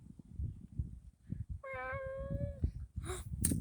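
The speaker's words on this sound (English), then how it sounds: "Wait, I hear a cat somewhere in the trees." A cat meows from up in a tree, one drawn-out, fairly loud cry, heard over quiet rustling outdoor background.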